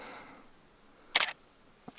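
A single-lens reflex camera shutter fires in a quick burst of several sharp clicks while photographing a hawk perched close by outdoors, followed by one fainter click, against quiet background.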